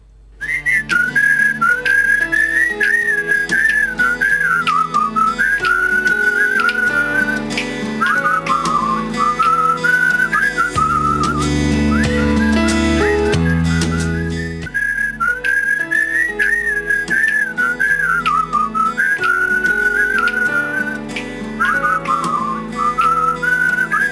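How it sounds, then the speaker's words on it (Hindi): A person whistles a continuous, lilting melody with the mouth, loud and close, over steady instrumental backing music that briefly swells with deeper tones midway. "सीटी बजाने की ये कला कैसे आपके मूड की चाल भी बदल सकती है"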